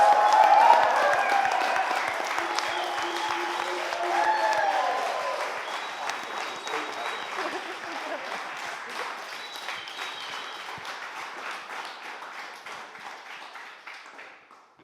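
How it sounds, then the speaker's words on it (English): Long round of applause and cheering from an audience at an Inclusive Access event, loud dense clapping with raised cheering voices early on, gradually thinning and fading out over about fifteen seconds. "can I get a massive, massive, massive round of applause? I want some cheering"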